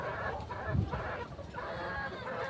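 A chicken clucks softly in short bursts close by, against a faint busy background.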